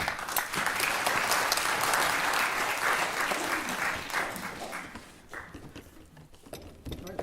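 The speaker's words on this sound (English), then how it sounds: "Give him a big round of applause." Applause from a concert audience for a singer fills most of the stretch, loud and dense at first, then thinning out and fading toward the end.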